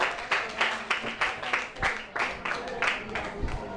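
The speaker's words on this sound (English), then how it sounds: "A round of applause to them." A small audience applauds after a debate, giving scattered, fairly quiet claps in uneven bursts with some voice sound mixed in.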